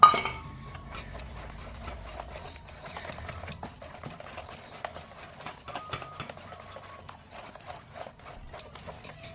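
A spoon adds melted ghee and butter bit by bit to a cake batter, giving faint, irregular metallic clinks and taps against a bowl in a quiet kitchen.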